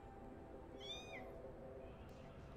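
Cats meow in the game ANNO: Mutationem, one clear rising-falling meow near the middle over a steady ambient game background, with a faint second call toward the end.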